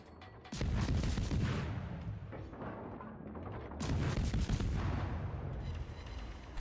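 Naval guns of a destroyer in World of Warships fire in two heavy, booming salvos a few seconds apart, each a sudden loud blast followed by a long rumbling decay within the game's ambience.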